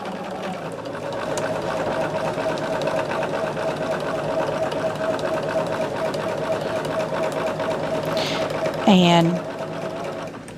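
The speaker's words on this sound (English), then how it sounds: "I'm going to go back a couple of stitches behind that where I stopped stitching" A sewing machine stitches fabric scraps at a steady, even running pace for several seconds while a person talks over it, ending with a brief higher whir.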